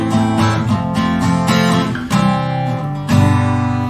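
A four-chord pop progression, played loud and close as four sustained chords, each changing about once a second, with no talking.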